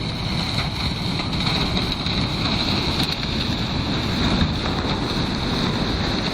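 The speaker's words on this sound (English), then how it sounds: "a huge icebreaker showcasing its mighty power as it easily destroys and glides through the frozen Yenisei River in Russia" Huge icebreaker ship grinding through the frozen Yenisei River in Russia, a dense continuous roar of crushing ice, engine and wind without pause.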